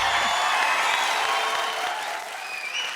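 A studio audience on a Kannada comedy show claps loudly for a guest, a dense burst of applause that fades slightly toward the end.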